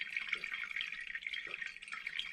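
Distilled spirit filtering through a percolator for homemade calvados, a steady bright trickle and patter of drips running continuously at close range, no talk.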